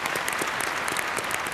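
Dense, steady applause from a TV game show studio audience, loud and continuous throughout with no pauses.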